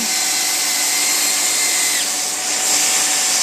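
A welding gun runs along the seam of a split boot, giving a steady, loud broadband hiss with a constant tonal whine that shifts slightly partway through, with no voices.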